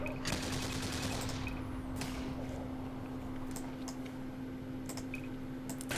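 Rapid ship turrets in the space game Eve Online fire a fast rattling volley at the start. Scattered sharp cracks follow over a constant low electronic hum, fairly faint overall.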